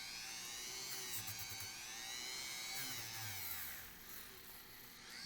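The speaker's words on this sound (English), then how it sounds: "let's start sanding this down a little bit" A high-pitched power sander whines continuously against wood, its pitch wavering as pressure shifts, close by with no voices.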